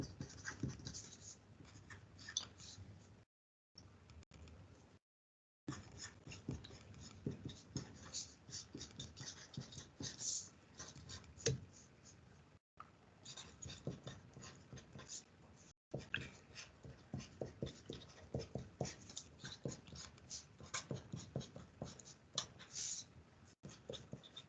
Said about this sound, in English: Let me write these down.